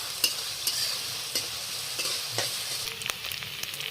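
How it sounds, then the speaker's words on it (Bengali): Dried fish frying in hot oil with turmeric and salt, a continuous sizzle broken by repeated sharp scrapes and clicks of a spatula stirring the pan. "এবার লাল করে অল্প সুটকি করে ভাজতে হইব"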